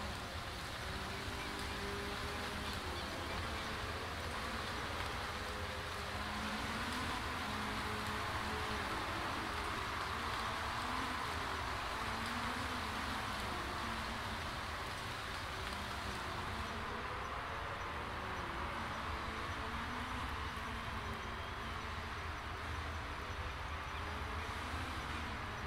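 Steady rain pattering loudly throughout a Rio endurance race in a racing video game, a dense continuous hiss with engine hum underneath and no talking.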